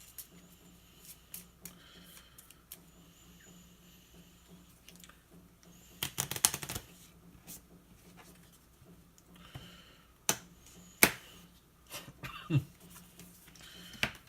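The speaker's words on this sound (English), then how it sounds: "so I'm going to have to quickly shuffle" A deck of cards is quickly shuffled on a tabletop during a solo Baron Heinrich Zemo card game, giving soft scattered taps and a short riffling burst midway, followed by a few sharper clicks.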